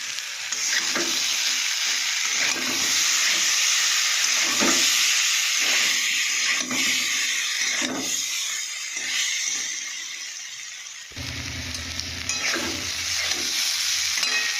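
A ground paste of ginger, cumin, radhuni and black pepper hits hot oil and fries with a loud, continuous hissing sizzle, while a spoon stirs through it in a few soft scrapes and nobody speaks.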